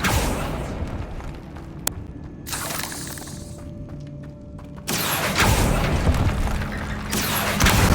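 Confringo spell blasts in the Hogwarts Legacy video game burst out as loud booming, crackling explosions, one sustained rumble early and a stronger roaring blast in the second half, with sharp shattering crackles throughout.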